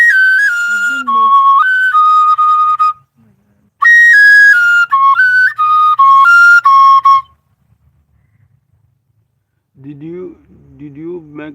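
Oja flute, the flute of the spirit, played in shrill, bright phrases with quick pitch leaps and trills, two bursts separated by a gap, then a short low voiced call at the end.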